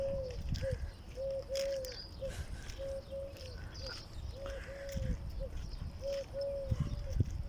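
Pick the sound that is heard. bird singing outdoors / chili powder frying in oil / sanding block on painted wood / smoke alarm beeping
bird singing outdoors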